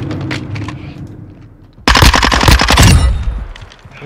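Mimibak gun firing in the shooter game Modern Warfare II, a loud close burst of rapid automatic fire lasting about a second, preceded by quieter distant shots.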